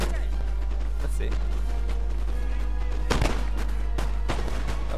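Musket volleys crackle from line infantry in a Napoleon Total War battle, several sharp bursts and a ragged fusillade around the middle and later part, mid-distance, over a steady game-sound bed.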